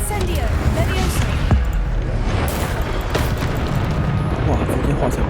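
Incendio fire spells are cast in Hogwarts Legacy, giving loud fiery bursts and booming impacts in a busy stretch of combat, with a voice speaking along the way.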